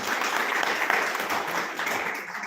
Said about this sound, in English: Can we clap for these great people?